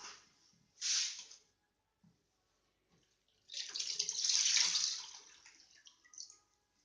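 Hands being washed under a running tap, with short gushes of water splashing into a sink, a brief burst, a pause with faint drips, then a longer, stronger rinse nearby, quiet overall.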